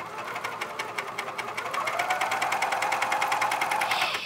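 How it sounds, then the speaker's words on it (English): A coverstitch sewing machine stitching fabric, running close and steady with a rapid rhythmic mechanical chatter that speeds up and grows louder partway through, with no talking. "Lower it back down, and now we are ready to start sewing."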